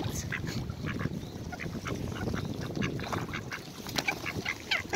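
Ducks and coots feed together on the water in Regent's Park, London, with repeated quacks and short calls over splashing and a busy background, fairly close.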